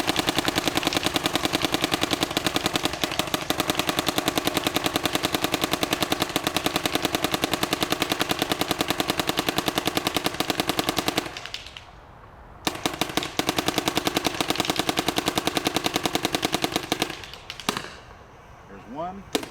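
A Dye DLS paintball marker fitted with a Fatty Seal fires paintballs in long rapid-fire strings, a steady loud mechanical rattle of shots that stops briefly twice before resuming.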